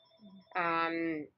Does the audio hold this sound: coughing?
no